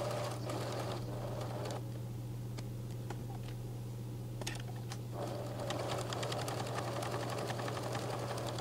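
A sewing machine runs steadily, stitching a pocket onto a summer skirt, with a constant close mechanical whir and fine rapid ticking, briefly easing partway through before continuing, with no voices.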